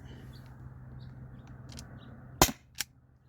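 An Umarex HDP50 air pistol fires steel ball bearings, two sharp snapping shots close together near the end after a quiet stretch with faint background noise.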